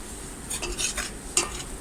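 A spoon stirs and scrapes through flour roasting in butter in a pan for béchamel sauce, with soft sizzling and a few sharp clinks against the metal.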